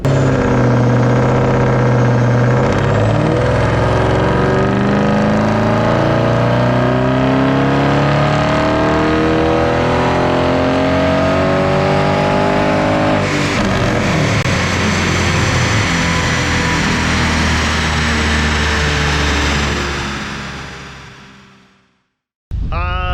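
A tuned 750bhp Cupra engine revs hard and drives, loud and close, with rising and falling pitch through gear changes for about twenty seconds before cutting off abruptly.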